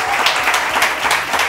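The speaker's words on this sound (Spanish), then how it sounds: "Un aplauso para ellos, que están aquí con nosotros." A television studio audience gives steady, dense applause for guests on a Spanish variety show, a continuous wash of many hands clapping close by, with no pauses.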